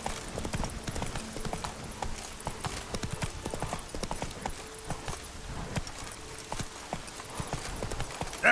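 Roach the horse walks along in The Witcher 3, hooves clip-clopping in a steady, fairly close rhythm with soft ambient game sound behind.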